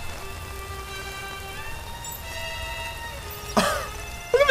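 Steady rain falls through a city scene in the animated series RWBY, a soft continuous patter under faint tonal music, with a couple of brief louder clatters near the end.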